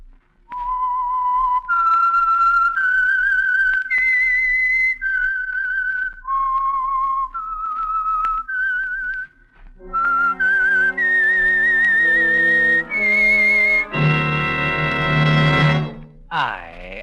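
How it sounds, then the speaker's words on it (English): The Whistler radio program's signature whistle carries a slow, eerie tune of held notes, then shifts to a brighter, layered tone before ending on a sustained chord. "the signal to listen for is this whistle that identifies the Signal Oil program"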